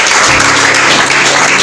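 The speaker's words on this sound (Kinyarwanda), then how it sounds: "Mwongere amashyi tumushimire." Audience applause for a speaker at a secondary school graduation ceremony in Rwanda, loud dense clapping close by throughout, with a faint voice underneath near the start.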